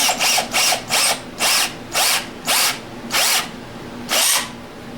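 A power drill bores into the iron block of a small-block Chevy 400 four-bolt-main engine, working in about eight short, loud, close bursts with brief pauses between them.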